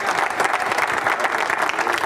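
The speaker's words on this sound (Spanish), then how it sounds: "Denle un aplauso al Señor." A church congregation claps together in praise of the Lord, a dense and steady burst of applause heard close and loud. No voices rise above it.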